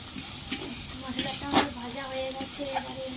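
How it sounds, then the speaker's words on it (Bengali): Ginger and garlic stir-fried in a pan give a steady close sizzle, broken by sharp scrapes and clacks of the spatula against the metal every second or so. "আদা রসুন সব দিয়ে ভালো করে নেড়ে ভেজে নিচ্ছি"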